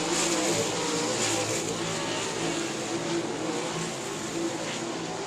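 Stock cars race at South Texas Speedway, their engines roaring in a continuous loud drone that swells and fades slightly as they pass.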